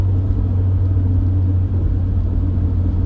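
Yonaka catback exhaust on a stock first-generation Honda CR-V (RD1), heard with the windows down while driving: a steady, loud, low exhaust drone and road rumble throughout, with no talking.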